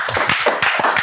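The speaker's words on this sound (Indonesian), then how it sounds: "Kita beri tepuk tangan dong untuk film ini dong." A short burst of clapping, a handful of sharp claps in quick succession from a small group, close and fairly loud.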